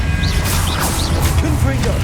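Expelliarmus disarming spell cast in the Hogwarts Legacy video game, a short swishing magical burst with a crash-like impact, heard over steady game background sound.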